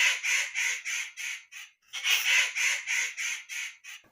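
A cartoon crow caws repeatedly in a fast, rhythmic run of harsh nasal calls, a short pause splitting two steady series, loud and alone.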